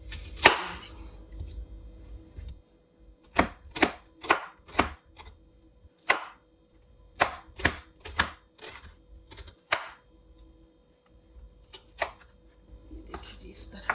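Onion being chopped with a knife on a board, a run of sharp, close, uneven chops in quick bursts separated by short pauses, no talking.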